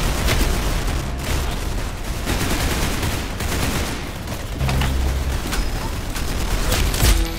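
In Roblox Arsenal, a continuous barrage of loud gunshots rattles on almost without pause, with dense bursts and sharp cracks throughout and no talking.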